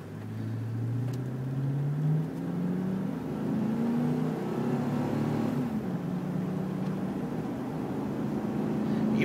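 A 2004 Chevrolet Suburban 4x4 pulls away from a standstill, its engine note climbing steadily through the gears with a low, continuous drone and rising whine inside the cabin, loud and close with no talking.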